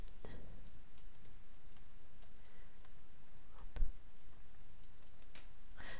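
Typing on a computer keyboard in an office setting, light scattered key clicks with a few louder taps over a steady background hiss, close and fairly quiet throughout.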